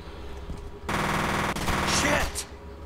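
Machine gun fire in the video game F.E.A.R. breaks out as a loud, sustained burst of rapid shots lasting about two seconds, with a brief shout over it.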